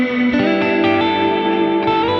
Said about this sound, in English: It's very pretty reverb